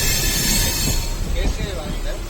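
A train bound for Tiruchirappalli (Trichy) rumbles and rattles steadily, loud and continuous, with muffled voices mixed into the noise.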